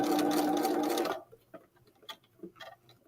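A sewing machine runs a steady rapid stitching burst along a seam for about a second, then stops, leaving faint clicks and handling sounds in the quiet.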